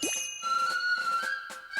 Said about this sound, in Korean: 점심시간 이렇게 작업 끝 이렇게 알리는 작업용 타종입니다